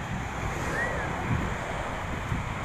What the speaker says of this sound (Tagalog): Medyo malamig na hangin ngayon dito.